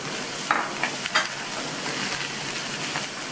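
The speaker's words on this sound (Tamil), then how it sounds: "இந்த எண்ணெயிலேயே நல்லா ஒரு 2 நிமிஷத்துக்கு இந்த முள்ளங்கியை வதக்கிக்கணும்." Radish, onion and garlic sauté in oil with a constant close sizzle, punctuated early by a few sharp stirring clatters before settling into an even fry.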